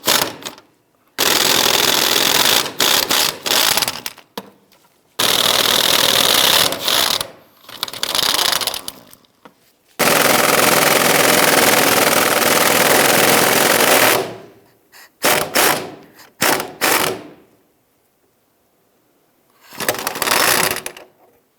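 An impact or air tool rattles off bolts on a 1999-2004 Jeep Grand Cherokee during fuel pump replacement, loud close bursts of several seconds each separated by pauses, with a few short trigger taps.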